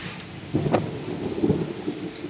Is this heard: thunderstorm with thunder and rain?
yes